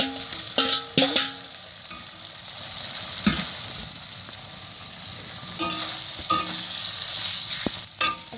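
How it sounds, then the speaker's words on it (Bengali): Meat is tipped into a hot pan of well-browned masala and sizzles steadily, with a few scraping clinks of a spoon against the pan at intervals. "এখন মাংসগুলো এখানে ঢেলে দেব।"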